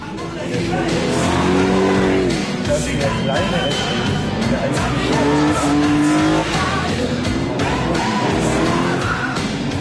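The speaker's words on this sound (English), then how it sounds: "Mercedes racing cars roaring out their refusal to be consigned to history." Mercedes racing cars roar past one after another, engines revving and whining in rising and falling sweeps, loud and continuous over a crowd's background noise.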